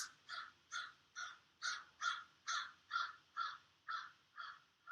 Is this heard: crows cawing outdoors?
yes